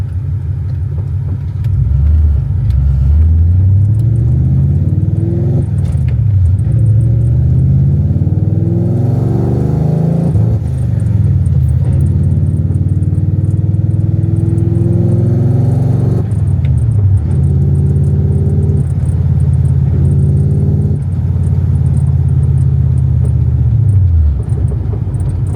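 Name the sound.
Coyote-swapped car engine breaking up, two-step cutting in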